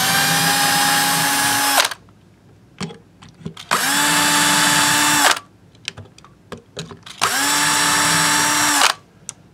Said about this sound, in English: you don't want to drill through the headstock all the way through